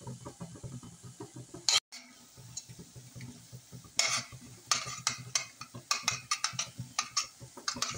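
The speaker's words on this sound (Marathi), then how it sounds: "आता याला हलक्या हाताने आपल्याला हे फिरवून घ्यायचे आहे." Gulab jamun balls turned gently in hot frying oil with a spoon, a soft steady sizzle broken by repeated light scraping and clinking of metal against the pan, close and fairly quiet.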